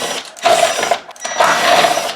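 Screws being backed out of a Marantz CD-63SE CD player's mechanism with a small electric driver, two short bursts of close, high whirring separated by a brief pause.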